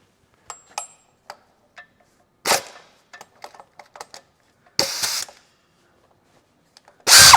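An engine bolt comes out of a Chevrolet Cruze 1.4 engine under a long 18mm socket, with sparse ticking clicks between three short, loud bursts of tool noise, close and clear.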